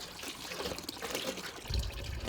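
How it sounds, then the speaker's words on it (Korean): Water trickling and splashing into a container as it is drawn from a hose beside a stream for household use, with no mains supply; a steady close dribble that swells into a heavier gush near the end. "수도 시설이 없어 이렇게 물을 받아 쓰신다는데요"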